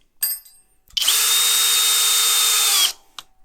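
A FLEX power drill drives a Diablo bit meant for screws and nails into wood, running in one loud, steady whine for about two seconds after a short burst, then stopping abruptly.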